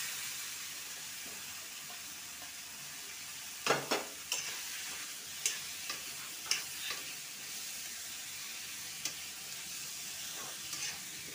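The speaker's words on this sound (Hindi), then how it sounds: "अब इसको कटे हुए सेव को तड़का लगाएंगे" Soft steady sizzle of chopped apple frying in ghee, with a few sharp clinks of a spoon stirring against the pan.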